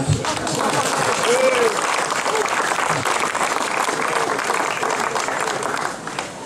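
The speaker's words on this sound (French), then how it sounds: "Vous pouvez l'applaudir." Sustained applause from an audience at a medal ceremony in Castelnaudary, dense clapping filling the whole stretch at steady volume with some voices mixed in, fading slightly at the very end.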